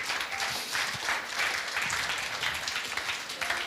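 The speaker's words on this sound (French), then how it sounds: "vous devriez être en train d'applaudir le Seigneur" A church congregation applauds continuously in worship, a dense, even wash of clapping from many people that holds steady without talk.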